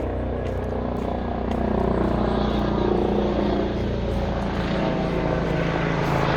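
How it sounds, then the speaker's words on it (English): Low rotor-like engine drone of a helicopter passing overhead, loud and steady, swelling slightly in the middle before easing off. "sorry for the helicopter."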